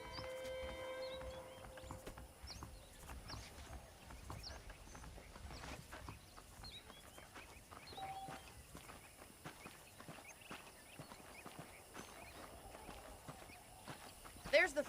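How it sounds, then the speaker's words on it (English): Saddled horses walk in Red Dead Redemption, hooves clip-clopping faintly and steadily in an irregular rhythm, quiet and partly buried under background game ambience. "The horses are saddled up over here."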